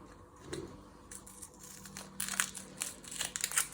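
Papery onion skins are peeled off by hand for a cottage pie, giving close, quiet crinkling and crackling that grows busier toward the end, with no talking.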